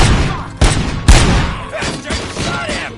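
Gunfire in the RoboCop video game: two sharp, heavy shots ring out close together near the start, followed by a lingering rumble of game ambience.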